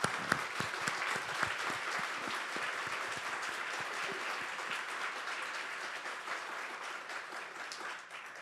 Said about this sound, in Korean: 박수 한번 쳐요. 鼓掌。